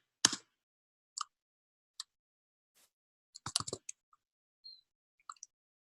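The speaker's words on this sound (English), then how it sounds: "Whoever is typing those questions, thank you." Sparse, close clicks of computer keyboard typing, a few isolated taps followed by a short rapid cluster of keystrokes, against near silence.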